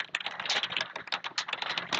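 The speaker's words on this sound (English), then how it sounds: "If I type it in correctly." Fingers tap quickly on a computer keyboard, a close run of crisp, uneven clicks lasting about two seconds with no talking.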